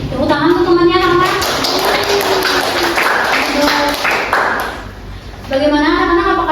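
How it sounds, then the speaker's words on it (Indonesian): Schoolchildren in a classroom clap briefly for a classmate, a short patter of hands mixed with children's voices and an adult speaking before and after. "Tepuk tangan untuk temannya anak-anak."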